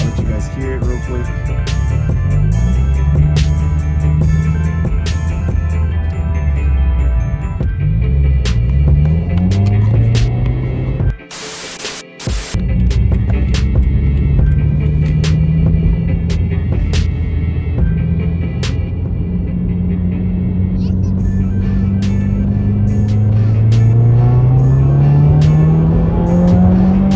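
Car fitted with a FactionFab axle-back exhaust driving, a steady loud engine drone that rises in pitch through the gears, with a brief dropout near the middle and no talk.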